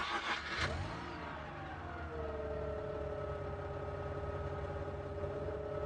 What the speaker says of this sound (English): Next, release the ignition switch, the accelerator pedal, and start the engine.